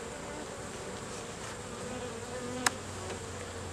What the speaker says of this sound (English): we've got some bees here, young bees, a lot of young bees